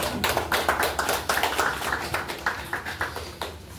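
Audience at an ESQ training session in Kecamatan Bansari claps in a rhythmic pattern, sharp bursts repeating roughly twice per second, moderately close, with a faint voice underneath.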